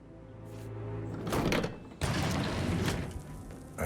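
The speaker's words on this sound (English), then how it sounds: "A hidden door. It's a secret passage." A hidden door to a secret passage opens by mechanism in Hitman 3 on the Dartmoor level, with grinding, ratcheting gear noise, a brief pause, then a heavier sliding rumble and clunks, close and fairly loud.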